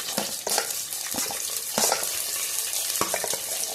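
Onion pieces hitting hot oil in a pan, a steady close sizzle with spatula scrapes and stirring clatter scattered through it.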